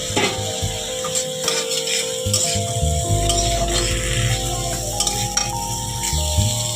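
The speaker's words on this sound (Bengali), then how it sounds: "তাই আমি এখন সেই কচুগুলোকে ঢেলে ভিতরে ভালো করে কষিয়ে নেব" Taro (ghot kochu) stir-fried in a spiced masala with slit green chillies, giving a steady close sizzle broken by repeated scraping strokes of a spatula against the pan, with no talking.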